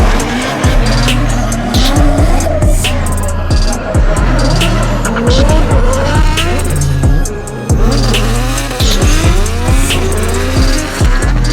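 A Nissan 180SX drift car screams through a drift run, its engine roaring loudly and continuously as tires squeal and skid in repeated bursts, close and dense with rapid pitch sweeps throughout.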